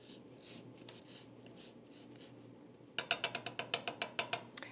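The dark green peel of a fresh lime scraped across a grater, first as soft brushing strokes, then about a dozen quick, crisp rasping passes in a steady rhythm, close and fairly quiet.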